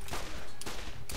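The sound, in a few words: gun firing in video game Borderlands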